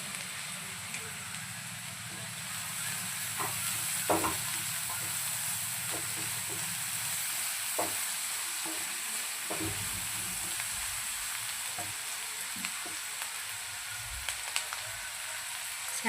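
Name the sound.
frying onions golden brown for mutton keema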